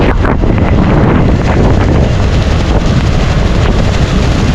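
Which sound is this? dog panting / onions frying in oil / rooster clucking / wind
wind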